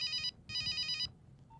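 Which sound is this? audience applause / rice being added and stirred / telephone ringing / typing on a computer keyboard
telephone ringing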